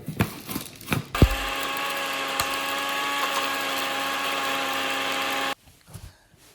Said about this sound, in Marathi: सारको बारीक वांटया आमी.